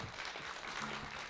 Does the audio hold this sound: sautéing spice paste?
no